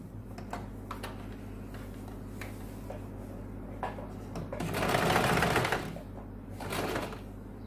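A sewing machine stitches the folded side seams of a blouse lining, running in short rhythmic bursts with a louder, denser run in the middle over a steady low motor hum.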